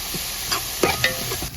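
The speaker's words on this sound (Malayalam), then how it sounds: "ഒന്നിച്ചുള്ള ഒരു വഴുത്താവും നല്ലപോലെ ഒന്ന് ഇളക്കി കൊടുക്കും അന്ന് മൂക്കാൻ വേണ്ടി" Garlic and onions frying in a pan while being stirred, a steady sizzle with a few scraping stir strokes standing out, close and moderately loud with no talking.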